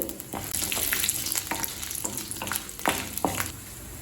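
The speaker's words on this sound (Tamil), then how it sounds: "இப்போ உளுந்த பருப்பையும் கடலை பருப்பையும் நல்ல கலர் மாறுற வரைக்கும் வறுத்துக்கலாம்" Urad dal, chana dal and garlic roast in an oiled pan for onion chutney, making a close, steady sizzle broken by scraping stirs and crackling bursts. No one speaks.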